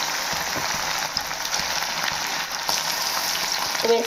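Chicken pakoda pieces deep-frying in hot oil over a medium flame, a dense, even crackling sizzle that holds steady throughout, close and without voices.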